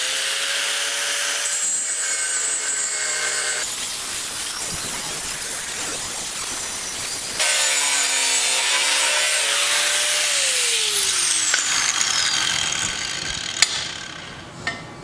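A hand saw cuts through a piece of 1/8-inch-thick conveyor belt, loud close rasping strokes in rough back-and-forth bursts, with scraping and a couple of sharp knocks near the end.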